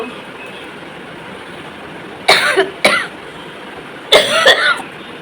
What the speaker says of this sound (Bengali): সরি আমার কাশি হচ্ছে